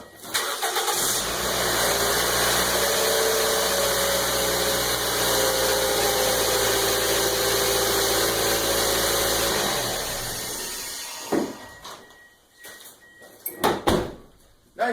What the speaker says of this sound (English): we'll go start the car up